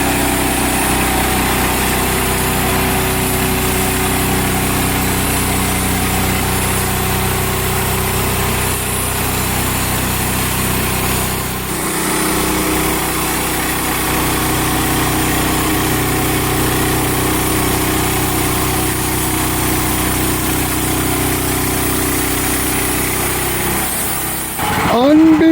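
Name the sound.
Hud-son Patriot sawmill engine running while cutting boards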